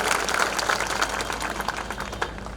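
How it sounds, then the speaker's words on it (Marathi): Applause from a crowd at a political rally held in the rain, a dense, steady patter of many hands clapping at once that carries evenly through the whole stretch without any voices. "निवडणुकीसाठी पावसात नाही तर तुमच्या प्रेमासाठी पावसात येऊन बसलेल्या या सर्व नेत्यांसाठी एकदा जोरदार"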